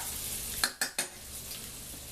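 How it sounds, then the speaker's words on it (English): Onions stirred into rendered bacon fat in a pan, a steady close sizzle broken by three quick utensil scrapes and knocks against the pan. "it's time to add the onions. Give them a quick little stir."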